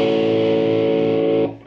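An electric guitar through a restored Decca RP 205 valve amplifier with a single ELL80 push-pull output stage, producing a loud, heavily distorted sustained chord that rings and then cuts off abruptly.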